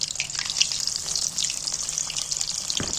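Fish frying gently over low heat in hot oil makes a continuous crackling sizzle, dense with small pops and spits, with one sharper knock near the end.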